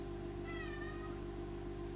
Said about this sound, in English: This is my kitty, Charlie.